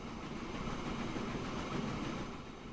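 A train running in the video game Transport Fever 2 gives a steady, moderately loud rolling rumble with faint clickety-clack, continuous throughout with no talking.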